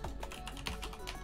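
A server address is typed on a computer keyboard in quick, close key clicks that arrive in an even rapid run with no pauses across the short stretch.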